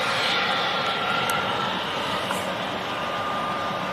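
German Airways airliner arriving at London City Airport, a steady broadband engine roar held at an even level throughout, with a thin whine running over it and no voices.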